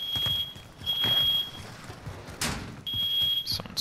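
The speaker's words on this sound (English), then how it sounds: "Smoke alarm going off." Inside a video game, a smoke alarm sounds in repeated piercing high beeps, separated by short gaps and mixed with faint game noise and a brief whoosh. No voices.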